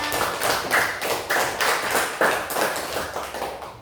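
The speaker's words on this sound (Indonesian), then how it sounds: "Tepuk tangan untuk kita semua." A classroom of students claps in a steady, patterned rhythm, with sharp, evenly spaced bursts repeating about every half second, close and fairly loud throughout.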